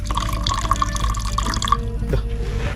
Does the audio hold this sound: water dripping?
yes